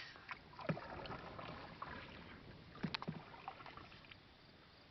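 Oars dipping and splashing as a small Flex Seal–patched boat is rowed across a cranberry bog on a hot day, with a few soft strokes and drips over quiet open-air background.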